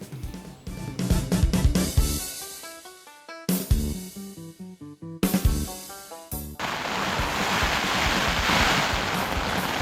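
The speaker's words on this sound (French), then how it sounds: "Il fait encore un vent épouvantable, pire que la nuit précédente." Strong wind gusts at a hiking bivouac in an abandoned vineyard near a mountain pass, heard as a steady, loud broadband roar with microphone buffeting in the final seconds, after a stretch of plucked tonal music.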